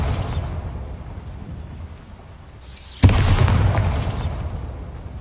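A Bombarda explosion spell goes off in the video game Hogwarts Legacy. A low rumble with a rising swell breaks into a single loud, sharp blast, followed by a roaring, rumbling tail of debris. No one speaks.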